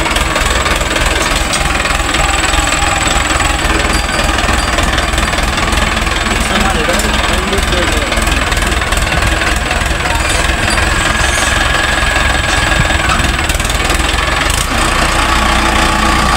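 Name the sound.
Arjun 555 tractor engine running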